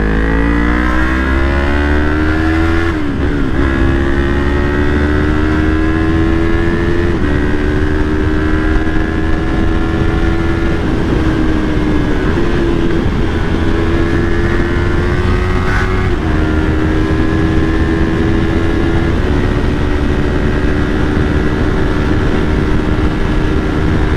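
A Yamaha MT03 motorcycle engine runs loudly and steadily, its pitch rising and falling through several revs, with no talking.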